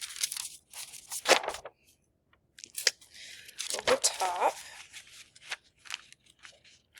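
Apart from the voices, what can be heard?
handling tracing paper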